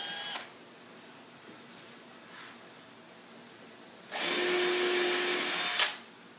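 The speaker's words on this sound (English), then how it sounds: "I'll drill pilot holes for the screws that will hold it." A power drill bores screw pilot holes into a solid wood lower back panel of a grandfather clock: a brief buzz at the start, then a quiet pause and one loud, steady high whine lasting about two seconds.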